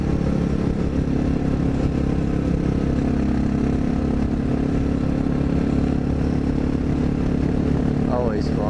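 A Honda XR650L dirt bike runs under load while being ridden on a mountain road, its engine a loud, close, continuous drone mixed with steady wind rush throughout.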